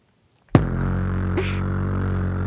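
A beatbox drum sample run through the Trap Drive distortion plugin: after brief quiet, a loud, gritty, saturated low boom sustains with a sharp snap in the middle and another at the end, close and alone.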